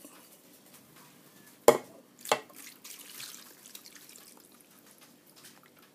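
A glass of water is tipped into a pot while homemade Spanish-style sardines are being prepared, giving a sudden splash and a second slosh, followed by faint drips and light kitchen clatter.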